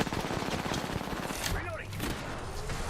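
Rapid video game gunfire rattles in dense bursts across the whole stretch, with a brief tonal chirp from game effects partway through, loud and continuous throughout.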